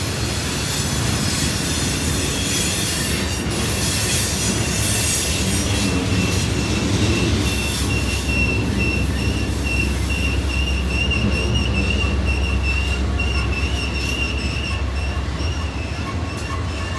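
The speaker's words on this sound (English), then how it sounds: "Just think how much weight is on this train going down the hill." A heavy coal train with six locomotives, including pushers on the rear, eases downhill on Horseshoe Curve, Pennsylvania, its wheels squealing steadily over a loud continuous rumble of rolling railcars with occasional clicks.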